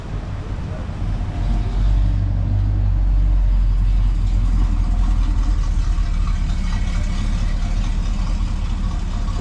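A 1969 Camaro with a high-compression 496 big-block V8 and 4-speed idles at a car event, a loud, deep, steady rumble close by, swelling briefly early on, with voices faintly in the background.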